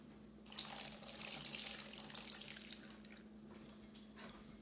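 Liquid gelatin for a vintage layered recipe is poured on top of a set layer, a faint, continuous trickling splash that lasts several seconds with no talk.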